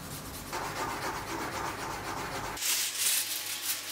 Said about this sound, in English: While I was burnishing these, I also made sure to burnish the back edge of the strap.